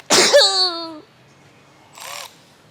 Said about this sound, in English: It'd be really cool if you guys wouldn't tell anyone I sneeze like that.